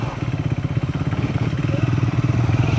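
Triumph motorcycles ride over rough off-road terrain near Karjat, with a loud, close engine drone that pulses steadily while the bike labours along the uneven ground.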